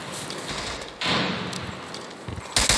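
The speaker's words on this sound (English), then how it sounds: "Tossing frag!" A frag grenade in a competitive video game match is thrown with a whoosh and lands with a thud, followed by a sharp burst, all at moderate loudness with no talk over it.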